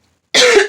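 A single sharp, loud cough from a person, bursting suddenly after silence and fading within about half a second, close to the microphone.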